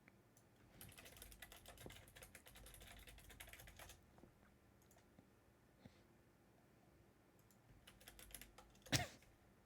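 Typing on a computer keyboard to log in: quiet, rapid bursts of key clicks in short runs separated by pauses, close and faint, ending with a sharper click, no talk.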